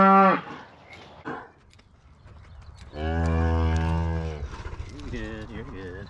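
Cows being loaded into a trailer ahead of their calves let out a loud, long moo in the middle, with a shorter, quieter moo at the start and softer lowing after, over faint background noise.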